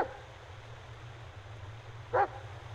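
A single short dog bark sounds once near the end, moderately loud over a low droning ambient hum in the Blair Witch video game.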